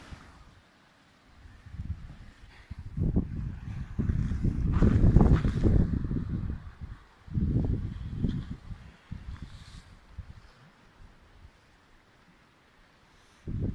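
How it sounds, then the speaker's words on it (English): A gusty northwest wind blows along a coastline, buffeting the microphone in loud, rough surges that rise and fade over several seconds, alone without speech. "That's the nor'wester."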